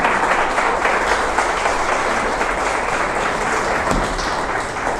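A church congregation at a Sunday service applauds, a thick, steady roar of many hands clapping that holds constant for the whole stretch, fairly loud and close, with no speech over it.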